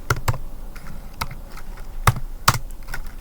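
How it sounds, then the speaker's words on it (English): Keystrokes on a computer keyboard while entering text, a few crisp, separate clicks in short bursts with pauses between, close and clear with no talk. "Now let me type"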